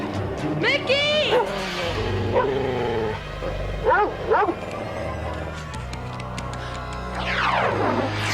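Dogs growl, bark and whine close by, the snarls and yelps overlapping in restless bursts, with a higher whimpering cry rising near the end.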